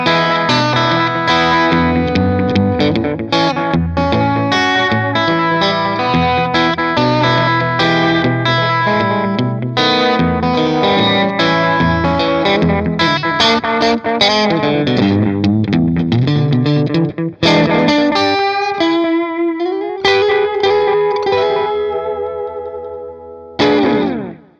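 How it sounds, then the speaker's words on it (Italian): Electric guitar played through a CostaLab EchoLab delay pedal on its Delay 1 setting: dense, loud, continuous phrases with fast repeating echoes and a chorus-like shimmer, ending on sustained notes, with no talk. "Per capirci, il Delay 1 raggiunge queste velocità."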